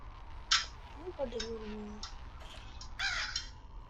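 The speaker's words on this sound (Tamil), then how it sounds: "காக்கா உழிச்சிருக்கு" A crow caws in the Granny video game, two or three harsh close calls spaced across a few seconds, while a voice speaks over a steady background hum.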